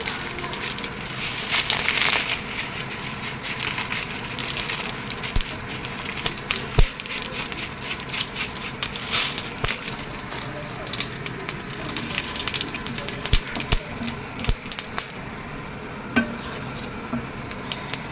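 Two dried chillies and five-spice hit hot mustard oil in a kadai for radish-free vegetable ghanta, a continuous close sizzle and crackle with scraping stirs and clinks throughout, under intermittent talking.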